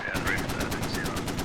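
Rapid bursts of heavy .50 cal machine-gun fire in a combat video game, a steady stream of loud shots sustained across the whole moment with faint voice chatter underneath.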